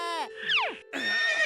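A cartoon father voices a horse neigh, a clear rising-and-falling whinny imitation with a short breathy snort between vocal bursts, close and loud with no other sound.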